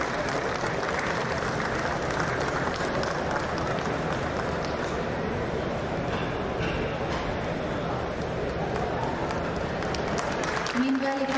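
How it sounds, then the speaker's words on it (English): An audience at a museum expo ministerial event applauds, producing dense, sustained clapping that stays loud and even throughout before tapering off at the very end. "I request our esteemed members in the audience to kindly keep the flow going with your applause"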